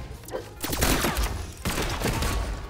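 Bursts of gunfire in the video game Brawlhalla come in two loud rapid volleys of crackling shots, with faint game noise between them.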